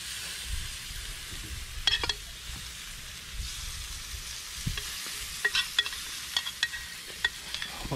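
Blue crabs sizzle on an outdoor grill with basting sauce, a steady moderate frying hiss broken by sharp pops and crackles that grow more frequent toward the end.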